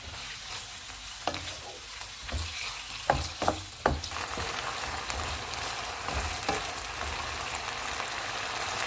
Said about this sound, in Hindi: चूल्हे को फुल कर देंगे और इनको 5 मिनट तक भूनेंगे।